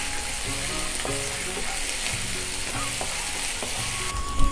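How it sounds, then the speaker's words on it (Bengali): Chopped onions fry in a pan with salt, giving a loud, continuous close sizzle broken by rhythmic scrapes of a spatula roughly once a second, with a sharper clatter at the end. "দিয়ে ভালো করে পেঁয়াজগুলো ভেজে নেব বন্ধুরা"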